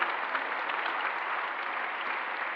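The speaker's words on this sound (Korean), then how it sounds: "내빈으로 오신 모든 분들께 박수로 환영하겠습니다" Steady, even applause from guests at a Daegu memorial worship service commemorating the March 1st independence movement, a dense wash of many hands clapping continuously without a break.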